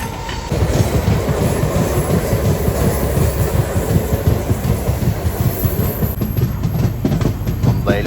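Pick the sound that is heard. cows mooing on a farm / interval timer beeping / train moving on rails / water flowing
train moving on rails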